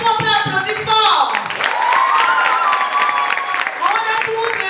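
A crowd at a school recycling-campaign event applauds loudly, with clapping under prominent voices that call out and cheer in sliding tones. Busy and near throughout.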